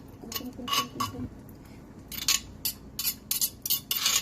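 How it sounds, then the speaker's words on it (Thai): A spoon clinks and taps inside a mortar while som tam is pounded: a quick run of light, bright metallic knocks, then more irregular clinks, with faint talk in the background. "เพื่อนคงลำคาญช้อนที่อยู่ในครก"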